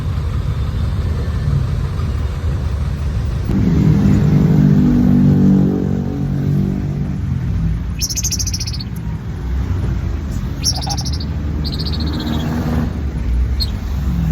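A jeepney engine revs and accelerates with a loud low rumble that swells midway, heard alongside street traffic, with bright bird chirps breaking in over the steady drone.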